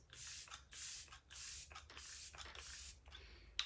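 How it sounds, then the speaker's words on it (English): Makeup setting spray misted from a pump bottle: about seven short, close, hissing spritzes in a quick, uneven rhythm, with no talking. "last thing I'm gonna use is setting spray, a refreshing spray"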